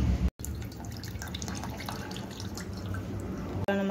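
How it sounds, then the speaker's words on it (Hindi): Bottle gourd juice, blended with a little water, drips and trickles steadily as the pulp is squeezed through a cloth, close and continuous, with a brief cut near the start. "अब अच्छे से निचोड़ दूंगा पकड़ के"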